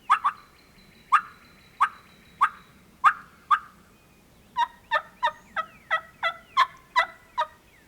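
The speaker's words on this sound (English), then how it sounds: "He just gobbled a second ago." Wild turkey gobbler calling in a field on opening day of spring season, a series of rapid rattling gobbles, a few spaced then a quicker run of about ten, fairly close and clear over quiet outdoor ambience.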